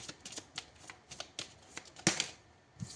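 Tarot cards being shuffled by hand, a quiet run of crisp riffling flicks and soft slaps in close succession, with no talking.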